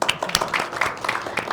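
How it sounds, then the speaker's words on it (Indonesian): Audience at a Banten literacy forum dialogue clapping in a brief round of applause, a dense patter of many hands, moderately loud and close, with a faint voice mixed in. "Boleh tepuk tangan dong."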